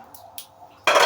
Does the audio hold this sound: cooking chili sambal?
yes